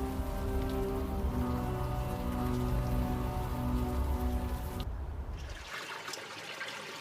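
Steady rain falling in the video game Unavowed, a dense, even patter over a low droning hum that thins out toward the end, with no voices.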